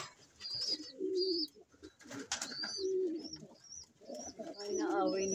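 Fancier's pigeon cooing close by in repeated soft throaty bursts, with people talking over and between the coos.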